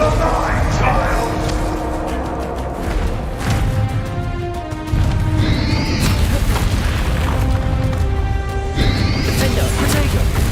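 Bombarda and Incendio spell blasts in the Hogwarts Legacy video game, loud rumbling booms and crashing magical bursts with rising whooshes, layered under game music and a voice speaking throughout.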